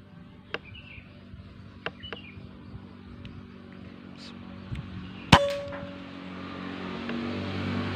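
A sharp metallic clang from a Jawara Mouser OD 32 air rifle shot hitting a ceramic target rings out after a few light clicks, set against outdoor background noise with wind and distant traffic.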